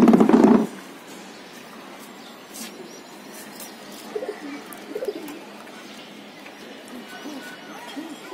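High-flying pigeons kept in a loft in Mirpur give a short, loud burst of sound at the very start, then settle into faint, soft cooing calls scattered over a quiet background.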